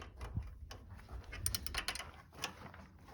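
A nut being tightened on the starter's positive lead during a Cub Cadet engine swap, faint close metallic ratcheting and clicking in quick irregular bursts, no talk.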